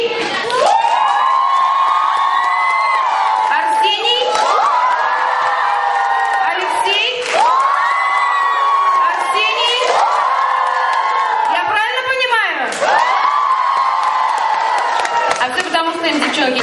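A children's summer camp audience cheers and shouts in loud repeated swells, voting for a boy who danced a jive at a talent show; the cries rise and fall in waves, with applause mixed in.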